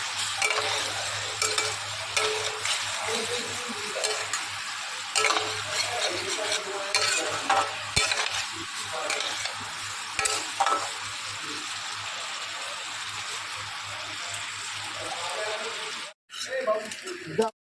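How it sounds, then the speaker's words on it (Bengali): Bata fish frying in a home kitchen pan, a dense, steady sizzle running unbroken for most of the stretch over a low electrical hum, with a few sharper crackles before it cuts out briefly near the end. "এই যে মাছ বাটা মাছ ভাজা হচ্ছে"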